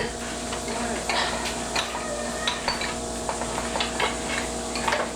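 Peanut butter sauce heats in a pan under a soft constant sizzle, with repeated light clinks and scrapes of a utensil stirring against the metal, fairly close and no voices.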